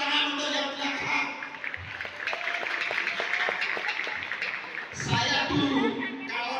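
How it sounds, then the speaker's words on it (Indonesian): Scattered clapping from a school seminar audience, light and uneven under steady amplified speech, with a brief louder burst of applause near the end. "Tepuk tangan untuk yang belakang."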